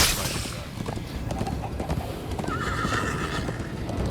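A horse gallops in Minecraft Story Mode, its steady clip-clop hoofbeats running close and continuous with loud neighs and whinnies, while voices talk over the ride.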